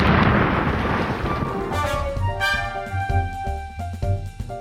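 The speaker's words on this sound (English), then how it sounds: "you hear a sound and an explosion out of your bag" Explosion effect in a Blades in the Dark tabletop session, a loud sustained rumbling blast with crackling bursts, followed by ringing tonal debris tones that fade out.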